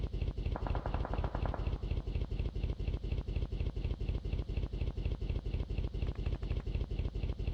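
Rapid gunfire in a video game during a tournament scrim, a continuous steady stream of evenly spaced shots like an automatic weapon, fairly loud, with no talk over it.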